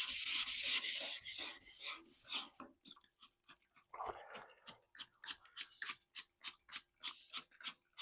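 Hand sanding on a Volkswagen Bug body panel during restoration: dense continuous rasping strokes at first, then a steady run of short, evenly spaced scrubbing passes, close and clear with no talk.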